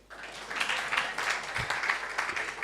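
An audience at a stakeholder forum claps in a short burst of steady, moderately loud applause lasting a couple of seconds.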